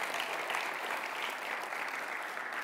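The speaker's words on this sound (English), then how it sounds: "So let's give yourself a round of applause." Steady applause from a crowd, continuous clapping filling the room at a moderate level with no voices standing out.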